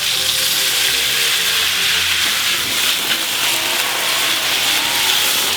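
Pepper steaks sizzle loudly in a hot pan as cognac is poured in, giving a dense, continuous hiss and crackle of steam that holds steady throughout, with no talking.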